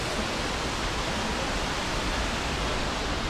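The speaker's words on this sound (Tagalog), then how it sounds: "dito tayo sa man-made falls" Steady, dense rush of a man-made waterfall pouring continuously at a cycling stop, broadband and close, with no voices over it.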